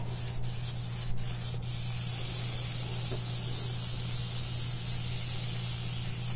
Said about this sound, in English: This is going to go quite a bit slower with this airbrush.